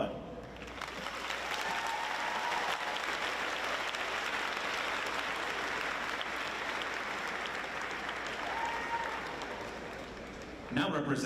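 A commencement audience at an International Academy graduation breaks into broad, sustained applause, a dense roar of clapping filling the hall for about ten seconds before a voice resumes at the end.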